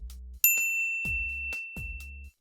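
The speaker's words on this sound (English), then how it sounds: "ring the bell to be notified about our latest videos" A bright notification bell ding strikes once, clear and close, then rings on with a long sustained tone while soft low thumps pulse underneath, with no voices.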